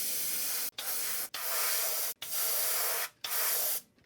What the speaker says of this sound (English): I'm gonna start off by painting the raw wood with silver